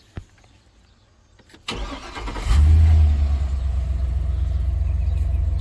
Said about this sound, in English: the vehicle will crank, start, and run